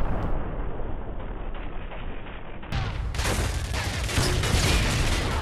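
A Semtex charge detonates in a video game, a loud booming blast followed by sustained crackling, rumbling roar.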